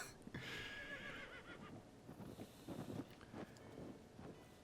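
A horse whinnies at moderate distance over soft wind and faint hoof clops, in the video game The Legend of Zelda: Tears of the Kingdom.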